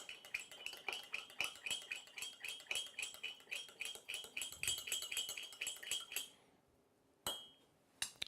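Rapid, steady clinking of a utensil against a bowl as tabbouleh ingredients are stirred and mixed together, close and fairly loud for about six seconds, then a pause, a single sharp clink and a faint tap.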